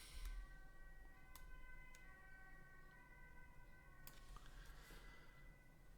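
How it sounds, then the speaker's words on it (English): An ambulance siren wails outdoors beyond the room, its steady tonal bands held at moderate level and slowly shifting in pitch through the six seconds, heard from inside alongside faint background noise. "there's an ambulance going on."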